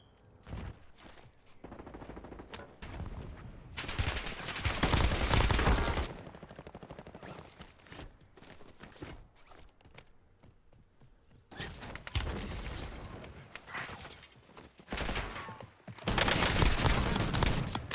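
Full-auto MX Guardian shotgun with dragon's breath rounds in Call of Duty Warzone, loud roaring blasts in two long bursts, with quieter gaps and clattering sounds between them.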